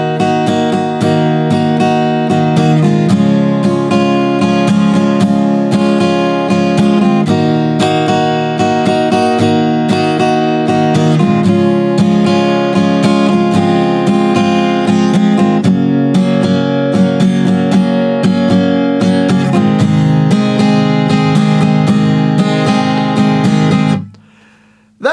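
Acoustic-style guitar strums the verse chords of a country song, a steady, loud and continuous rhythm that stops abruptly near the end, with no voice.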